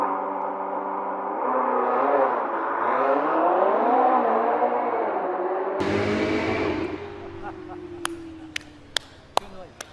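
A Ferrari engine revs loudly at a CES 2017 stage reveal, its pitch wavering up and down for several seconds, then cutting into crowd applause and a few sharp claps.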